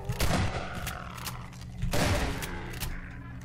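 Gunfire from a shotgun in the Half-Life 2 mod Aftermath, with loud, punchy blasts repeating in quick succession and ringing decays between shots, and no talking.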